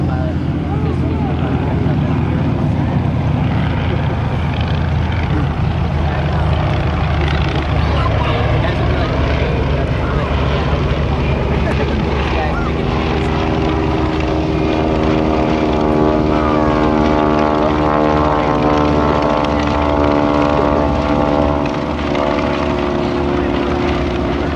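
Propeller airplanes flying in fingertip formation at an air show give a loud, steady, continuous engine drone with rising and falling pitch as they pass, while an announcer talks over the sound.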